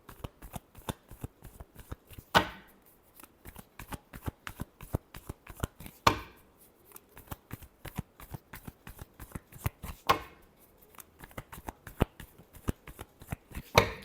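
Tarot cards being shuffled by hand in close, quiet bursts of rapid riffling flutter, with three louder bridge-style cascades spaced a few seconds apart, no voices.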